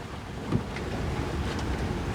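Wind rushes steadily across the microphone on a sailing boat off Martinique, between Fort de France and St Pierre, with a soft wash of water and waves underneath, giving a constant broadband roar and no voices.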